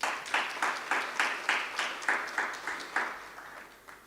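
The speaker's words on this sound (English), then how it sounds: "let's give them a round of applause." A few people clapping at a soccer cup draw ceremony, distinct rhythmic claps about twice a second, fairly faint and slowing toward the end.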